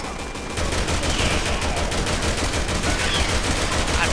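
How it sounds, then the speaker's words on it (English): Sustained assault rifle fire in Resident Evil 6, a dense rapid burst of close, loud shots beginning after a brief lead-in and rattling on without pause. "Emergency, so I'm using my assault rifle when I shouldn't be."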